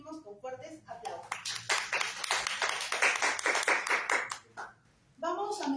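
Audience applause welcoming César Yanque, a Sociedad Abierta member, at a debate on strong versus weak government: a dense burst of clapping lasts about three seconds, with talk before and after it.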